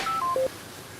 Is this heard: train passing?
no